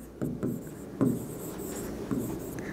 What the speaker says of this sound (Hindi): तो चलिए लिखते हैं, लेंथ ऑफ द वायर